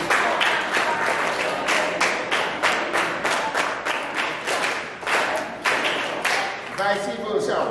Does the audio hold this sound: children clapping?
yes